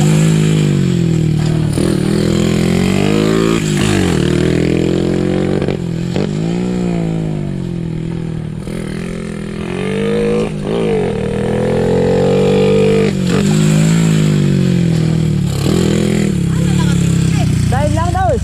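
A Honda XRM motorcycle is ridden with its engine revving up and down in repeated rising and falling pitches, loud and close, while people talk over it.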